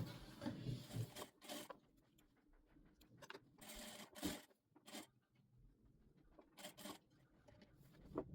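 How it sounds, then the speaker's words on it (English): Sewing machine top stitching a rope casing on a backless drawstring blouse, running in several close bursts of rapid mechanical whirring separated by short pauses. "Then I'm going to top stitch on it round"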